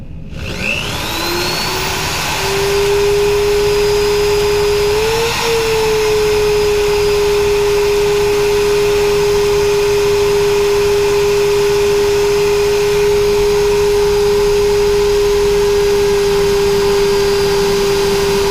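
A spinning machine polishes a 1965 two-shilling coin ring with 1000-grit abrasive, a loud steady motor whine that spins up at the start, then holds a single sustained tone with a broad hissing rush, close and continuous.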